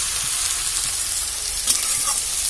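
Greens (shak) frying in a pan give off a steady, close sizzle with faint stirring scrapes. No one talks over it.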